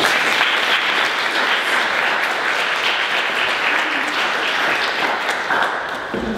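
An audience at a 2017 lecture applauds to welcome the speaker, Maree Clarke, with dense, sustained clapping that fills the room throughout and eases slightly at the end.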